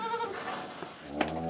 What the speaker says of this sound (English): And there's the other goats.